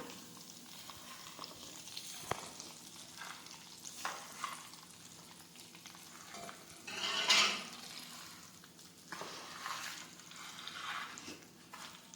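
A spoon turns a mango pickle mixture in a pan with soft, irregular scraping and a faint sizzle, a brief louder swish around the middle, quiet and close, no speech.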